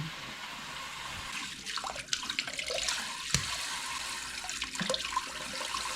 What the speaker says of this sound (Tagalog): binubusan ko muna ng malamig na tubig para madaling balatan